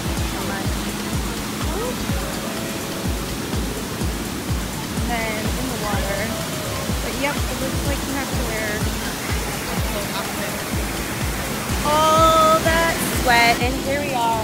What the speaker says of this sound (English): Not much to the waterfalls.